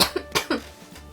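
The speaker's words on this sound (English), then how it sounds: "I'm gonna cough, sorry." Three short, sharp coughs in quick succession, close by and fairly loud, with a quiet room behind them.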